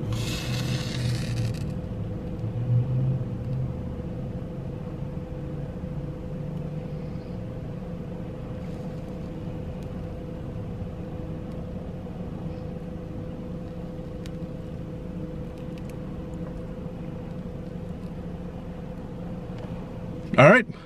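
Steady low road rumble and engine drone inside a car being driven, continuous and even for the whole stretch, ending with a short louder bump or scrape.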